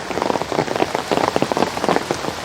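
Heavy rain pours steadily onto a garden, a dense, close patter of drops hitting plants and surfaces with no voices.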